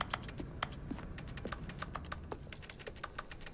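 Mouse clicks in The Stanley Parable: Ultra Deluxe produce computer keyboard typing sounds, a rapid, irregular run of crisp close keystrokes going on for several seconds with no voice.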